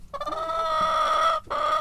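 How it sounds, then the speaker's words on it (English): A large Brahma rooster clucks at close range, giving a loud, drawn-out nasal call followed by a brief pause and a shorter second call. "the big Brahma rooster."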